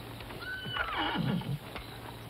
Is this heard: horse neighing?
yes